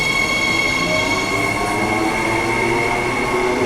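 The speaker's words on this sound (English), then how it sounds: "The train just wobbled." Perth suburban train running at speed, a loud steady rumble inside the carriage with high wheel squeal and sustained rail noise, no talk.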